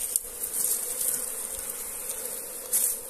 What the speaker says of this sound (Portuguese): Tá com pouca abelha mesmo.